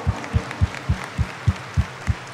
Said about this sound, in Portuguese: dê uma salva de palmas para essa véia